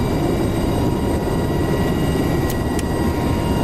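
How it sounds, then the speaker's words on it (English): Turbine drone of a UH-60L helicopter winding down in the DCS World simulator, a steady broad rumble held at even loudness throughout, with a couple of brief high clicks near the end. "Let her start spooling down."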